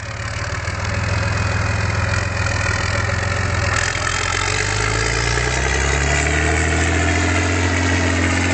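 Volvo BM 800 tractor engine idling, a loud, steady low diesel chug with knocking rhythm and a harsh mechanical clatter, running continuously close by with a slight shift in tone partway through.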